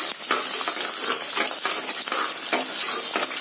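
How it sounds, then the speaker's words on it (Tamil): Shallots and garlic frying hard in a pan for village-style kootanchoru, a steady loud sizzle with repeated scraping stir strokes throughout and no voices. "சின்ன வெங்காயம், பூண்டு போட்டுட்டு நல்ல செவக்க வறுத்து விடுங்க."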